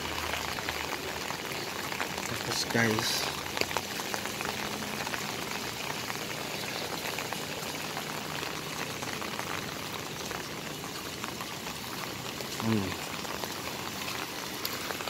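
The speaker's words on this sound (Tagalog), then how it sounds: "Sobrang lakas ng ulan." Very heavy rain pours down steadily in Qatar, a dense continuous hiss with occasional splashes, while a person talks briefly over it.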